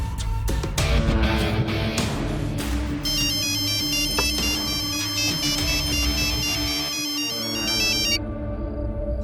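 A phone rings in a Hindi film scene, a bright electronic ringtone melody repeating steadily over a busy musical background before cutting off near the end.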